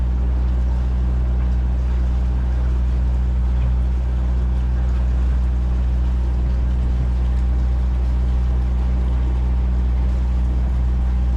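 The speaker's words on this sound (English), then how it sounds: "Bavaria 45 D2 55 horsepower engine." The 55-horsepower D2 diesel engine of a Bavaria 45 cruiser sailboat runs at about 1,800 rpm under way, a steady, loud low drone with a constant hum that never changes.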